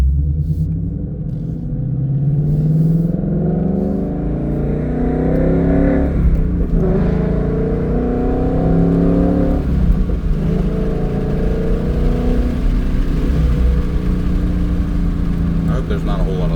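A Ford Mustang Dark Horse with a Corsa Xtreme exhaust pulls away in first gear in sport mode, a loud deep rumbling exhaust climbing in pitch with brief dips at shifts, heard from inside the car.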